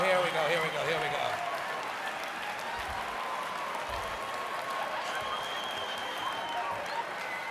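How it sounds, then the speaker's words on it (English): Audience applause fills a hypnosis show, steady broadband clapping throughout with a few cheers and voices mixed in, moderately loud and close. "Now a round of applause."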